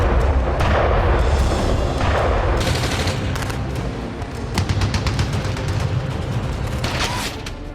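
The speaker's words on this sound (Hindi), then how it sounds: "खाली मैदान में गोले बरसाती तोपें" Artillery guns fire shells during a military war drill on an open field, loud rolling booms and rapid bursts of gunfire overlapping in dense volleys, with distant rumbling between the sharper cracks and no talking.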